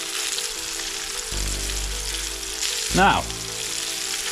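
Fish frying in hot oil, its skin searing on contact, gives a steady broadband sizzle close by; a brief word is spoken partway through and a short clattering burst rises near the end.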